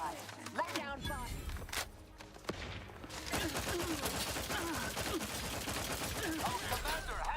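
Gunfire in the video game The Outer Worlds 2: rapid bursts of sharp shots crackle over music and effects, dipping briefly before a dense, continuous fusillade takes over, with voices talking over part of it.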